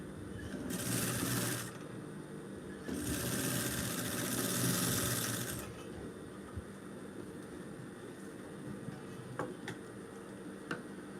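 A sewing machine stitches in two short bursts, the first about a second and the second a few seconds long, followed by quieter background hum with a few light ticks.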